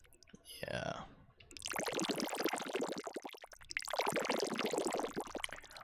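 Synthesized watery bubbles from Operator in Ableton, dense rapid bubbly pops filling the clip in two loud bursts with a brief gap, preceded by a short gliding tone.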